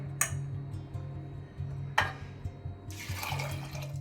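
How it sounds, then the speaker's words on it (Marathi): After a couple of sharp clinks over a low hum, water splashes and pours steadily onto lentils in a container near the end. "डाळीत पाणी टाकून झालेलं आहे आपलं"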